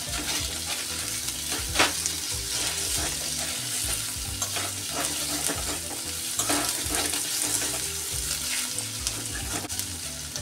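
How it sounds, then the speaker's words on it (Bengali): Cubes of paneer sizzle gently in soybean oil for palak paneer, a continuous near crackle punctuated by irregular stirring and scraping knocks across the whole stretch, with no talking. "বেশি ভাজা হয়ে গেলে শক্ত হয়ে যাবে, এই জন্য হালকা ভেজে নেব।"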